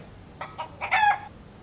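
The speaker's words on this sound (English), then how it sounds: "we're gonna edit a rooster sound in there" A rooster crows once in an edited-in sound effect, with two short rising notes leading into a longer drawn-out call that is loud and clear over a faint background.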